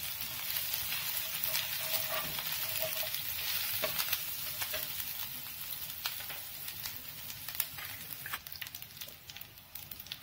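Ginger, chili and garlic frying in a pan for Rajasthani onion paratha filling, a dense crackling sizzle with occasional stirring clicks, easing slightly toward the end; no one speaks.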